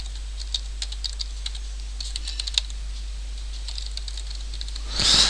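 Typing on a computer keyboard: a short run of light, irregular key clicks, fairly close and soft over a low steady hum, with a brief louder burst of noise at the end.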